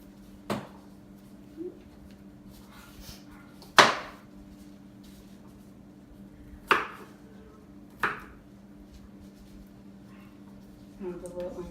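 Garlic is chopped by knife on a cutting board in a handful of sharp, widely spaced knocks against quiet room tone, while a person speaks between the cuts.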